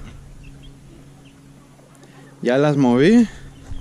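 Chicks in cages give a short burst of loud, wavering clucks near the end, after a stretch of quiet background hum and a brief spoken remark.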